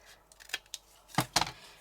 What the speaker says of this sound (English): I'm just going to trim this down